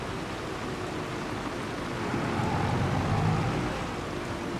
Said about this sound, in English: sounds like the rain is here